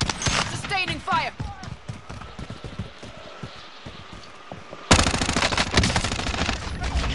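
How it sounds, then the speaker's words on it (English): Sustained automatic gunfire in Call of Duty Warzone rattles in rapid bursts under a player's shouting voice, thins briefly, then resumes as a loud, dense, continuous stream of shots for the final stretch. "Sustaining fire!"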